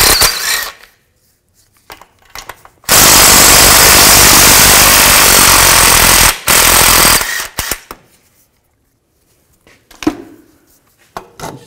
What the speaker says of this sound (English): Remove these two nuts. Use a 15 millimeter socket.